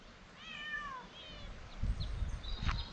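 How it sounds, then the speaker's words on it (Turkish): Cat meows twice close by in a short rural outdoor setting, thin drawn-out cries followed by rustling, shuffling steps. "Sen kimin kedisisin?"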